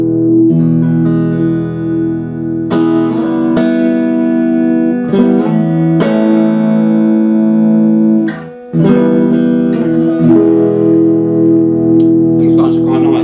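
An Aria STG electric guitar, just repaired, is strummed with its tone controls turned fully up, ringing sustained chords with a few string-muted breaks, loud and close.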